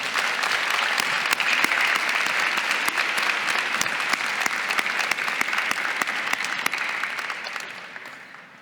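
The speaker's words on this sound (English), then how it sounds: "Can we have one last round of applause for all of our award winners today?" An audience at an honors convocation ceremony gives a long round of applause for award winners, steady dense clapping that slowly fades toward the end.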